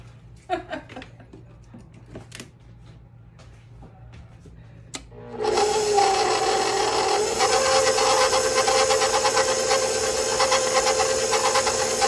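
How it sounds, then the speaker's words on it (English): A KitchenAid stand mixer with the paddle attachment switches on after a few light clicks and handling noises, then runs as a loud, steady motor whir with a beating rattle for the rest of the stretch. "it would help if I plugged the KitchenAid mixer up"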